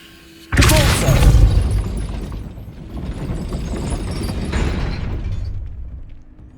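Depulso spell cast in Hogwarts Legacy, a sudden booming burst with a crashing, rumbling impact that trails off into a longer mechanical rumble and scattered debris.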